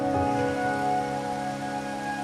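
Steady rain falls in the Wuthering Waves video game, a continuous soft patter under sustained tonal background music, with no speech.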